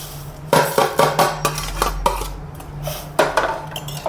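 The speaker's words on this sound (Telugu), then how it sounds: "ఇదిగోండి నెయ్యిలో ఫ్రై చేసిన సేమియా పాలల్లో అయితే వేసేద్దాం" Ghee-fried vermicelli is tipped into milk in a pot, with a string of sharp metallic clinks and scrapes of utensils against the pot over a low steady hum, close and irregular.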